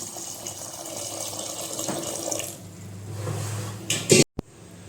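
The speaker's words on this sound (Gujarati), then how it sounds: "હવે આપણે થોડુંક એટલું એમાં પાણી નાખશું" Water pours steadily into a pot of potatoes on a gas stove for several seconds, ending with a brief clatter of metal.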